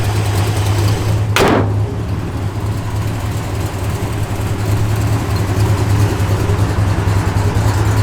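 A 1969 Chevrolet Chevelle SS engine runs loud and close with a steady low rumble that swells as it pulls, cut early by one brief sharp whoosh or door-like burst.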